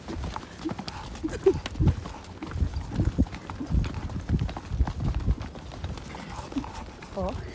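A horse's hooves clip-clop steadily on a cold-weather ride, close and fairly loud, with a rider talking over the irregular hoofbeats.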